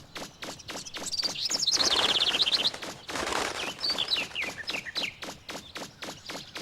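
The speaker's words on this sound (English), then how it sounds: "That's why there's all the doves." Cooing and chirping doves in the opening area of Mega Man Legends twitter in short bursts over a rapid, regular patter of flapping wings or steps, with a swelling whoosh of wingbeats mid-clip.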